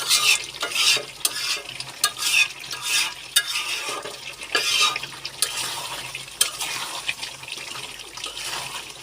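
Aloo dum, a potato curry, stir-fried in a pan: steady sizzling with repeated scraping and stirring strokes and occasional clinks of a utensil against the pan, loud and close, with no voices.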